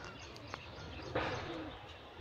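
A golden pigeon, a wild-cross male kept as a breeding bird, gives a brief low coo near the middle, faint against steady background hiss, with a small click just before it.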